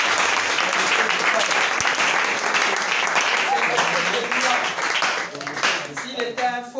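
A church congregation applauds with dense, sustained clapping that fills the room. Voices and cheers mix in, and the applause thins and fades toward the end.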